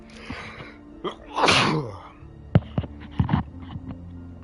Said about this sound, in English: I usually put the mic up when I'm about to sneeze like that.